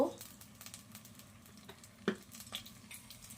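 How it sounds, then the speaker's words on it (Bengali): Oil poured into a hot kadai gives a soft, steady sizzle at close range, broken by a few light metallic clinks and taps of a utensil. "আমার কড়াইটা গরম হয়ে গিয়েছে। আমি এবার তেল ঢালবো।"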